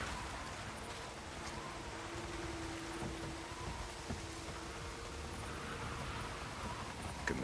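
Steady rain falls across an open outdoor scene in the video game Days Gone, a constant hiss of drops holding at an even level throughout, with a faint low tone running through the middle and no voices.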